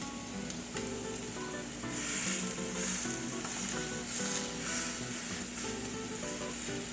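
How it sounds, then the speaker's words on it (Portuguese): Meat sears in a hot pan with a constant close sizzle and crackle, swelling at moments as it is stirred or turned, with a faint steady tone and no talking. "A gente vai dourar de todos os lados dessa carne, tá?"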